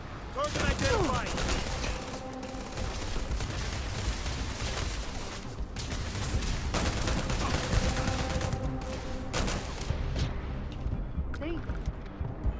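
Heavy enemy gunfire in the game Starfield crackles in dense, overlapping bursts of shots and impacts, loud and continuous, with voices speaking over parts of it.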